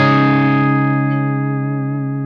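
A single strummed chord rings out on an electric guitar with its pickup selector in position 2 and the humbucker fully engaged, sustaining and slowly fading over about two seconds, alone.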